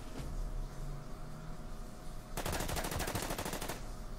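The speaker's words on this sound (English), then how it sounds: "Bunker returns fire" Rapid burst of automatic gunfire from a bunker in the WWII strategy game Order of Battle, a loud rattling volley of about a second and a half breaking over steady game background noise.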